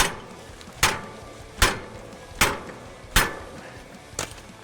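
Five heavy hammer blows on cast metal parts of an air drill, evenly spaced about a second apart, each a sharp ringing clang with no talking.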